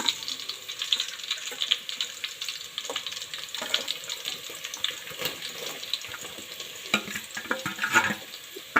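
Onions tipped into frying garlic-ginger paste and stirred for pav bhaji, a crackling sizzle with scraping stir noises and clatter, moderately faint and continuous with irregular louder bursts.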